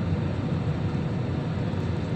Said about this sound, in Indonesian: Oke, sekarang semakin rendah pesawatnya.